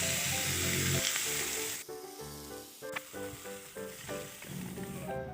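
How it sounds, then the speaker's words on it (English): Carrots fry in a hot pan, a loud hiss at first that drops off, with music playing and a few clinks. "I'm going to fry up the carrots."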